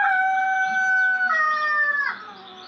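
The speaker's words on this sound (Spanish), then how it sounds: "Todos los días, cada mañana, el gallo siguió cantando." A rooster crows one long, clear, drawn-out call close by, its pitch holding steady and then dropping at the end before fading, with no voices.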